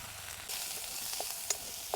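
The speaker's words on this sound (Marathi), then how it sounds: "कांदा मस्त परतून घ्यायचा आहे." Chopped onion sizzling with mustard seeds in very hot oil in a kadhai, a steady close frying hiss that rises partway through, with a few sharp pops and spits crackling near the end.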